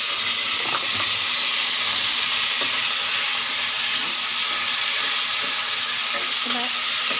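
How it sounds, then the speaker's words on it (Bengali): Tomato dropped into hot oil in a pan while preparing a fish roe fritter curry, giving a steady broadband sizzle with occasional soft clinks and stirring scrapes throughout, close and alone. "এটা এখন একটু তেলের মধ্যে দিয়ে দেবো"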